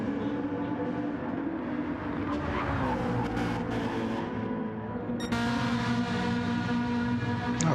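Citroen race car engine in a racing video game, a loud steady droning motor with shifting pitch and a sharp change near five seconds, continuous and close.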